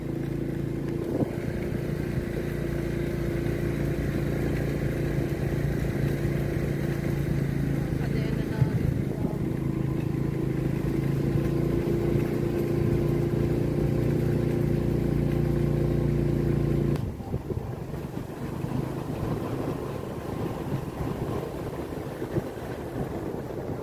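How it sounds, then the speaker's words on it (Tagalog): A motorcycle engine drones steadily while climbing a hill, labouring at a low, even pitch with a slight change partway through; no voices. "Hirap po yung motor guys sa pag-ahon."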